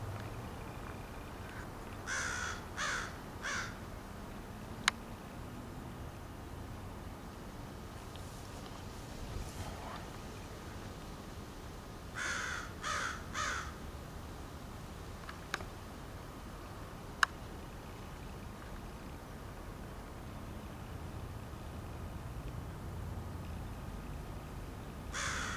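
Crows caw in a backyard in short bursts of three or four calls, twice, over a steady outdoor background hum, with a few faint ticks.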